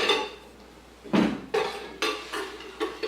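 Pots and pans are handled, about five separate metallic clanks and clatters over a few seconds, fairly close with a quiet room between hits.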